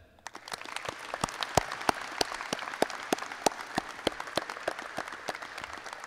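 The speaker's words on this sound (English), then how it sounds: "Graduates, please join me in giving a big round of applause to all the friends, family, and school staff" Graduation audience applause in a high school arena, distinct individual claps with sharp, fairly regular strikes over a soft wash of more distant clapping, moderately quiet and unbroken by talk.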